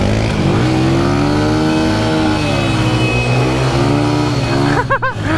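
A four-wheeler's engine revs loud and steady while drifting across dirt, its harmonic whine sliding up and down, with a quick burst of higher revs near the end.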